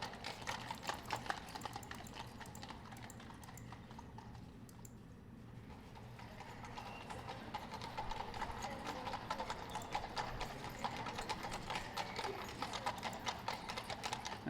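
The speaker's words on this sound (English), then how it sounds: "I can still hear the horses." Horses clip-clop in the video game Gold Rush!, a steady run of hoof beats with mechanical ratcheting sounds, fading briefly in the middle and then returning at a moderate level.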